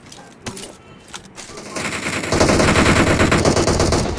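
Gunfire in a shooting video game: scattered shots at first build into dense, loud, continuous automatic fire in rapid bursts.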